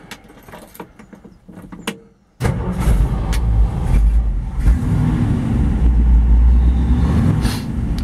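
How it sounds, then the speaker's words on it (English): A 1958 Ford Ranchero cranks over on its old gear reduction starter after a few clicks and rattles, then catches and settles into a loud, steady, rumbling idle right up close. "Hear that old gear reduction starter starting, that's just super neat."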